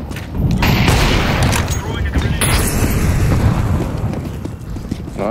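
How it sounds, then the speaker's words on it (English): A flashbang grenade goes off in Counter-Strike 2 on the Inferno map: a loud, sharp bang followed by a sustained, noisy wash, with gameplay sounds and a voice talking throughout. "Deploying flashbang."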